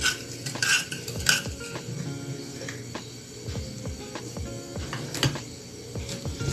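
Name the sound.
mixing ube cake batter with cooking oil in a bowl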